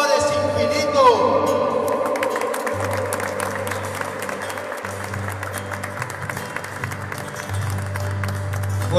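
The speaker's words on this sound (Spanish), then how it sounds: "Fuerte, fuerte los aplausos" Steady applause at a Catholic celebration greeting the Virgin of Itatí, continuous clapping from a gathered crowd with music tones and voices running over it throughout.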